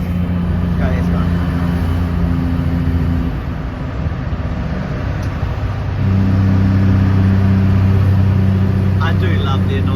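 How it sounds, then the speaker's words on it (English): A car with a manual gearbox drones through a tunnel, its exhaust and engine braking producing a loud, steady layered tone that dips briefly in the middle before returning stronger. "I do love the noise of the exhaust"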